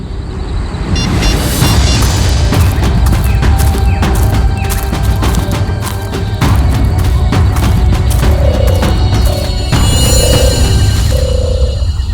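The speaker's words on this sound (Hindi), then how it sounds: "ये पटाखों की आवाज नहीं, कोई गोली बरसा रहा है।" Rapid gunfire rattles in dense, continuous bursts, loud and close, over a heavy booming background.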